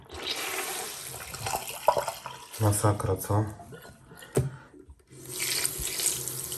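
Running tap water splashing during hand washing of car upholstery, a door armrest, bursts of faucet flow that stop briefly and resume, with someone talking over part of it.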